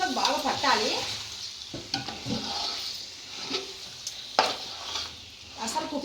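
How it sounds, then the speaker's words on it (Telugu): Biryani masala gravy is stirred in a pot with a spoon in a Rayalaseema-style kitchen, giving steady scraping and sizzling with occasional clinks against the metal, close and moderately loud. "ఇప్పుడు ఒక్కసారి మనం ఇది చక్కగా కలిపేద్దాము."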